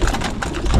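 Pigeons cooing inside a loft, soft throaty coos repeating in quick succession, close and fairly loud with no talk over them.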